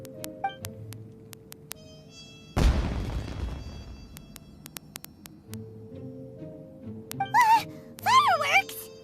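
A loud burst of in-game fireworks in Genshin Impact, one sharp crackling blast that decays over a second or two amid a low ambient hum, with brief voiced exclamations following afterward.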